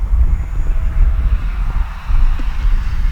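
Arrows Husky Ultimate RC airplane flying on a windy day, its electric motor droning steadily in the distance beneath heavy low wind rumble across the microphone.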